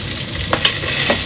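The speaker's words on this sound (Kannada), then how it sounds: "ಸ್ಲೈಸ್ ಕಟ್ ಮಾಡಿರುವ ಆನಿಯನ್ ಹಾಕ್ತಾ ಇದ್ದೇವೆ" Sliced onions frying in a pan of oil for fish pulimunchi give a steady, close sizzle with a couple of brief scraping clatters from stirring.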